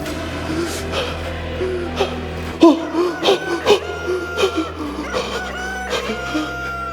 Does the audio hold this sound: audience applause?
no